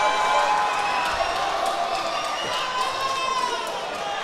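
Crowd at a boxing arena during the Scotland Golden Glove Elite Championship finals, singing and chanting as a loud, sustained mass of voices that fills the hall without pause.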